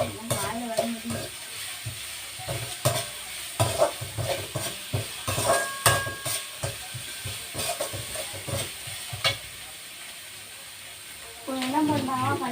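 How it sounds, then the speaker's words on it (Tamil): Spice powder sautéed in a pan with salt, close rhythmic stirring scrapes over a soft sizzle, pausing near the end, with voices talking at points. "தூள் அப்படியே வதக்கிக்கோங்க."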